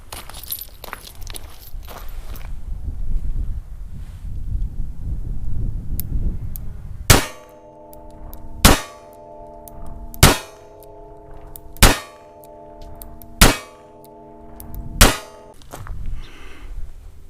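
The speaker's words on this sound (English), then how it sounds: "We will now fire the Kimber K6 revolver with 6 rounds of Fiocchi 38 Special." A Kimber K6 revolver fires six rounds of Fiocchi 38 Special at a shooting range, loud sharp reports spaced evenly about a second and a half apart, each ringing with a metallic clang against the target.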